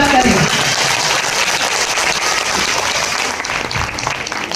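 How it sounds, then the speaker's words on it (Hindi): A crowd breaks into sustained, dense applause at a Hindi storytelling (katha) gathering, the clapping holding loud and steady throughout. "जोरदार तालियों से स्वागत करें।"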